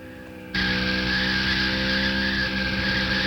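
A race car in the video game NASCAR Racing 2 cuts in abruptly with a loud, sustained engine drone and tire squeal that holds steady and close for several seconds, with no speech.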